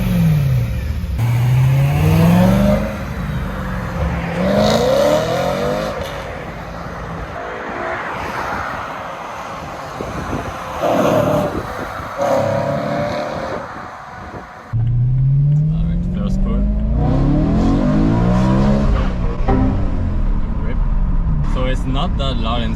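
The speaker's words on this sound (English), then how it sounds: "M performance exhaust, secondary cat delete." A BMW E92 M3 fitted with an M Performance exhaust and a secondary cat delete revs repeatedly, its engine note climbing and falling in loud, close sweeps with a brief quieter lull midway.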